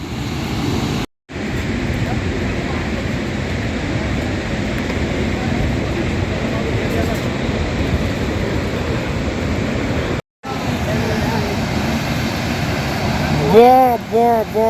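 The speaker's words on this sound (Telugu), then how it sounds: "ఆ ఘోష వాటర్ ఫాల్ సౌండ్" Lingamala Waterfalls near Mahabaleshwar roaring as a steady, dense rush of falling water with two brief cuts. A short tonal sound rises over the roar near the end.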